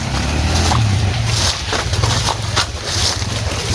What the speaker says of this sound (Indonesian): Aku mendengar suara, ada suara motor